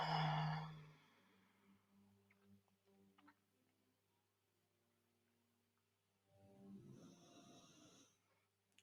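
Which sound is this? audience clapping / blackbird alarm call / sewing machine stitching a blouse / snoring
snoring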